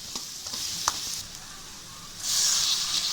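Onions sauté in hot oil, giving a continuous close hiss that swells louder near the end, with a few faint stirring taps early on.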